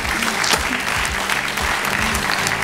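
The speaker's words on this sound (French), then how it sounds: "Et on peut les applaudir." Studio audience on a French TV game show clapping, a dense continuous burst of applause filling the whole moment, loud and close.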